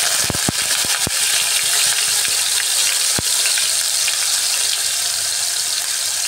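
Crushed onion, garlic and ginger hit hot oil in a pan, giving a loud, steady sizzle with a few sharp pops and crackles early on, with no voices.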